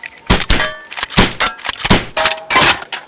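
Toy gun shots at a fairground can stall land as sharp, close thunks and clanks, about six hard hits in an uneven rhythm with brief ringing tails, mostly alone.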